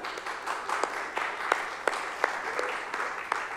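An audience claps to welcome an ethics panel at a chatbot summit in Edinburgh. The applause is steady and moderate, slightly distant, with crisp individual claps and no talking.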